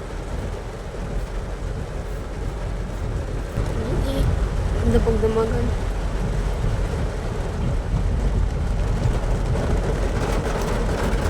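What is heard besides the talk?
heavy rain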